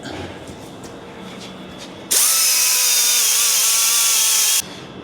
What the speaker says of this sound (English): Next, I'm going to deburr the area around where we drilled.